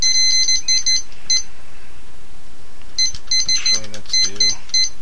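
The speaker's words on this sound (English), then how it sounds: "Let me set this timer." Digital kitchen-style timer giving short high electronic beeps in bursts as its buttons are pressed, with a few brief low sounds in between.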